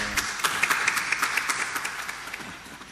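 An audience clapping at a spiritual discourse, a dense, fairly soft patter of many hands sustained for a few seconds and gradually thinning out, heard at a slight distance with no talk.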